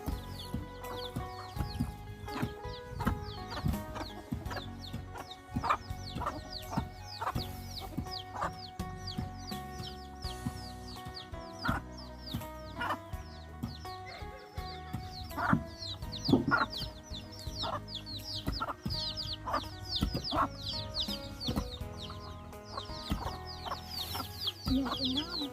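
Chickens clucking and a rooster calling in a Lao village, repeated near and distant bird calls scattered through a quiet rural background, with occasional other animal sounds.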